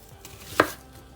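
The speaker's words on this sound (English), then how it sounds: "So like for the small onions, you can just cut them in 2," A single sharp knife chop through a small onion, cut in half on a board, with a faint tap just before; close, crisp and alone, no talking.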